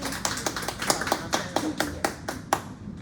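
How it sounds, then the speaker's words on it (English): A small audience claps for author Qin Sun Stubis at a bookstore author event, a steady patter of close hand claps lasting a few seconds with no talking over it. "let's give her a big round of applause"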